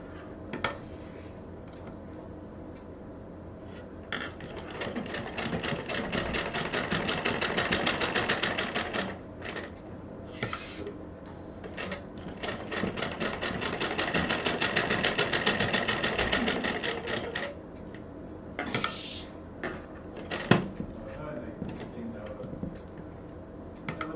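A sewing machine stitching a pocket onto a purse runs in bursts of rapid, even needle clatter, pausing and restarting several times, close and clear with no talk over it.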